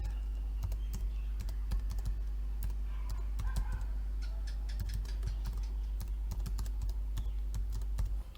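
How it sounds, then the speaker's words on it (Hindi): Rapid clicking keystrokes on a computer keyboard while an email address is entered for an online application, close and steady with irregular taps over a low hum, no voices. "मेरा ईमेल एड्रेस टाइप करना पड़ेगा।"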